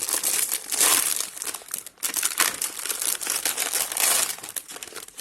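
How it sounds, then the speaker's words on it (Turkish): Plastic wrapper of a packaged banana-flavored snack being torn open and handled, with loud, close crinkling and crumpling that keeps going in uneven bursts throughout. "Yine paketi açalım."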